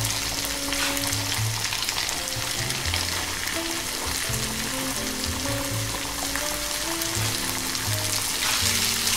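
Sausage, shallots and thawed frozen sweetcorn frying in a pan for a penne dish, a steady close sizzle with stirring and scraping, continuous and loud, with no talking.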